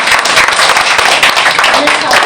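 An audience claps together at a kriya yoga ceremony, steady dense applause close and loud throughout, with voices mixed in underneath.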